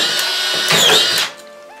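A DeWalt DCF620D2K drywall screwdriver whirs at high speed while driving a screw into drywall board, a short steady motor whine that rises briefly and then cuts off, close and loud.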